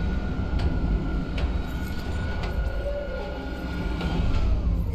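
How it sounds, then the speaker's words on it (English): A tram car in the video game Dead Space rolls in with a continuous low mechanical rumble and faint periodic clanks, steady and fairly loud with no voices. "Replacing damaged tram car."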